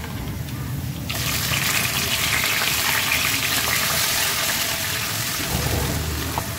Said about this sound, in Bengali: মশলা ভাজা হয়ে গেছে। এখন দিব আমি 2 টেবিল চামচ পেঁয়াজ পেস্ট।